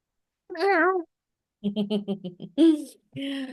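A pet cat gives one clear, close meow, followed by a few more short vocal sounds.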